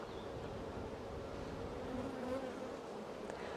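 Honey bees buzz steadily around an open hive during an inspection, a dense, continuous drone of many insects close by with no talking over it.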